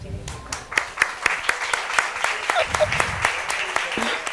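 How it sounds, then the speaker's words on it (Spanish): Applause with distinct claps popping over a crowd, honoring flamenco musicians at a talk, moderately loud, with a voice speaking partway through. "Así que un aplauso."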